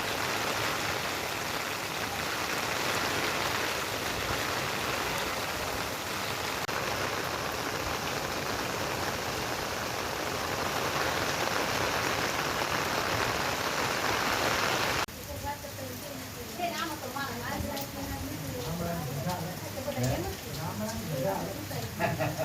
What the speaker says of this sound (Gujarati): એરપોર્ટ સુધીના રસ્તા ઉપર ધીમી ધારે વરસાદ વરસ્યો હતો